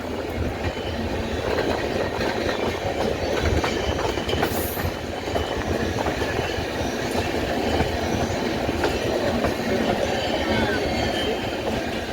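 The 14042 Mussoorie Express passenger train rumbles along its rails with a loud, close, continuous roar. Faint clickety-clack and some squeal come from the wheels throughout.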